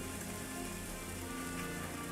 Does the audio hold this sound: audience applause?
no